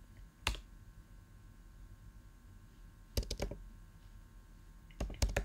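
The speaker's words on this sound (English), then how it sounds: "So all I need to do on my server is type SSH Keygen." Someone types an ssh-keygen command on a computer keyboard: three short bursts of rapid key clicks separated by quiet pauses in a still room.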